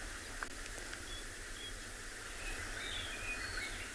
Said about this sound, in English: There's lots of birds chirping, meaning that it's quiet.